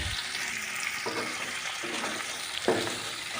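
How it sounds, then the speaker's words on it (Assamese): Pork pieces frying in oil in a pan for a dry jute leaf dish, giving a steady soft sizzle throughout with a few louder spattering bursts near the middle and end. "তো এই মাংসখিনি ভালদৰে ভাজি আছোঁ।"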